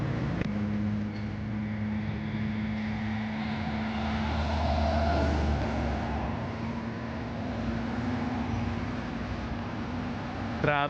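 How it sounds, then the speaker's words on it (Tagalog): Morning traffic backed up on an expressway after a collision gives a faint, steady drone of engines from a distance, with a low hum running underneath. "Traffic sa expressway."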